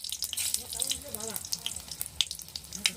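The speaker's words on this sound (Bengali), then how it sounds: "শুকনো লঙ্কা ফোড়ন দিয়ে দিলাম" Dried red chillies spit and sizzle in hot oil as a tempering for a Bengali mixed-greens curry, a steady close hiss with crackling pops and faint voice-like tones, no clear talk.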